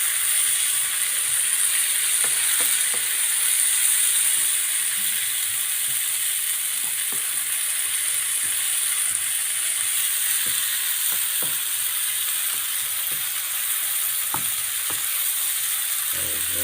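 Leeks sizzling in a pan for a leek and onion dish cooked in chicken stock with herbs, a loud, steady frying hiss broken by faint scattered stirring clicks.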